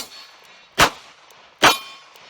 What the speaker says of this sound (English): now I'm going to shoot standard pressured ammo, just normal .38 Special